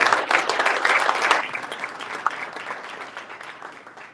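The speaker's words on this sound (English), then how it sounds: "So give yourself a round of applause." An audience at Delaware State University applauds at a football coach introduction, dense clapping and a few cheers that start loud and gradually fade away.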